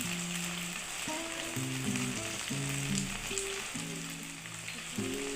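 Garlic fries in a pan with ginger paste and ground cumin, a steady close sizzle over a low, faint tonal hum that rises and falls beneath it, with no speech.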